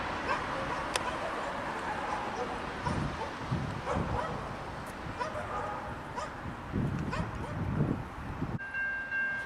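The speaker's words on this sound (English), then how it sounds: "It looks like this train also caused quite a stir at the doggy daycare across the road." Dogs at a doggy daycare across the road bark and yip in repeated bursts while a train passes nearby, producing a steady rumble beneath them; the sound is moderately distant.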